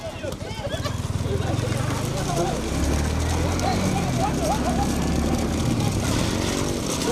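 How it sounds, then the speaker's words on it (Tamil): Bullocks racing past in a village bullock cart race, heard as a rumbling rush of hooves and cart noise under loud crowd shouting and talk throughout. "ஏ மாடு மாடு வருதே பாரு"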